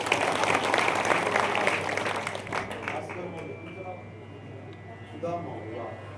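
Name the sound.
audience applause at a kirtan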